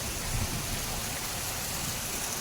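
Heavy rain falling outdoors, a steady, dense hiss that holds even throughout the few seconds, with no voices over it.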